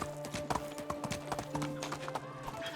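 Horse hooves in the medieval survival game Medieval Dynasty, a rhythmic galloping clip-clop at a steady pace, fairly close, with faint game background sound.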